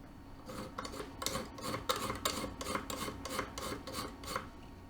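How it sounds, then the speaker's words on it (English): A metal file rasps back and forth across the rough edges of an aluminum sumobot chassis in steady, regular strokes, close but fairly quiet, with no talk. "once you're done filing all the rough edges off of it"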